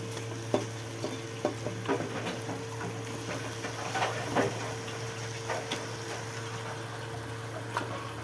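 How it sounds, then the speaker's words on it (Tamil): Washed meat sizzles in a pan of well-fried masala for biryani, with steady frying hiss and repeated scraping stir strokes throughout, close and moderately loud. "இப்போ வாஷ் பண்ணி வச்சுருக்கிற கறியெல்லாம் இதில் போட்டுக்கலாம்"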